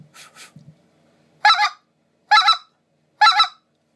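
Basin Calls speck goose call blown in three short, sharp two-note honks spaced about a second apart, loud and close, after a few soft breathy puffs at the start.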